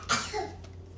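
One short, sharp sneeze bursts out close by, then quiet room hum follows.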